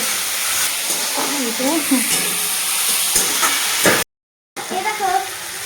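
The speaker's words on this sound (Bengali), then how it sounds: "পেঁয়াজটা ভাজছি পেঁয়াজটা ভাজা হচ্ছে" Onions fry in a pan with a loud, continuous sizzle and hiss, stirred now and then. A voice talks faintly over it, and a brief dropout near the end cuts the sound before the frying resumes.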